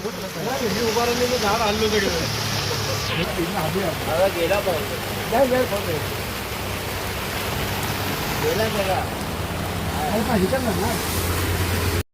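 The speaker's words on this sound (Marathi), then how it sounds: "छान पाऊस पडतोय आमच्याकडे तुफान कसला पाऊस पडतोय बघा" Heavy monsoon rain pouring down, a loud, continuous wash of hiss and splatter, close and unbroken, with a voice talking over it at times.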